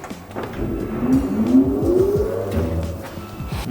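A Magneti Marelli wheel balancing machine spins a wheel under its lowered hood, a low motor hum climbing steadily in pitch as it speeds up, accompanied by repeated soft rhythmic thumps, close and fairly loud.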